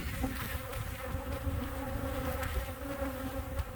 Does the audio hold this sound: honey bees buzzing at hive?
yes